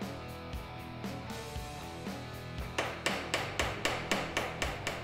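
A hammer peens metal pin stock set in the handle of an Arctic Skinner knife kit. A few lighter taps come first, then a steady run of sharp, evenly spaced close blows, about two per second.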